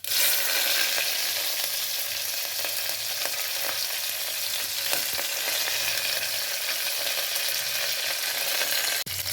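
Cumin seeds sizzle and crackle in hot oil in a pan, a loud, continuous frying hiss that runs steadily throughout, with no voices and a brief clatter near the end.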